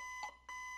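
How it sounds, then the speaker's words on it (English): An alarm in the Roblox game Us Are Toys, a faint, steady electronic tone repeating in short pulses, heard alone without talk. "when you hear the alarm, you should probably hide."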